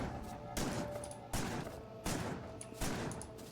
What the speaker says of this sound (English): Here, let me shoot a gun.